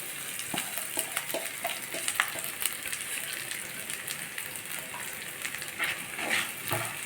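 Steady sizzling crackle of rice semolina dry-roasting in a pan with intermittent scraping and stirring clicks, close and moderately loud, no voices.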